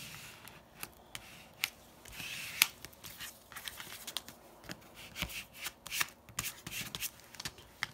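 A craft tag gets something scraped across it, giving faint, close, dry scratching and rubbing strokes in irregular bursts, quiet and without talk.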